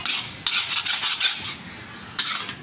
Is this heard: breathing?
no